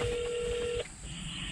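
A telephone dialing tone sounds as a call is placed to a farmer, a steady pure tone lasting under a second, then it cuts off into quiet line noise.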